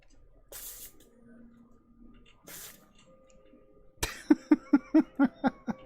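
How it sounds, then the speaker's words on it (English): Short hissing bursts of thinned liquid, mixed with alcohol, from a spray bottle, two quick sprays close by, followed by a run of rhythmic clicking pumps. "I just sprayed that all over myself."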